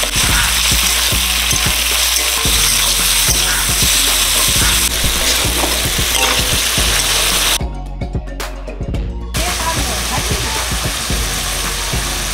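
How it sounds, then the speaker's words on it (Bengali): Potato pieces fry in plain oil with a loud, dense crackling sizzle close up, dipping briefly near the end before the bubbling returns. "ফাঁকা তেলে ভাজা হয়েছে আলু।"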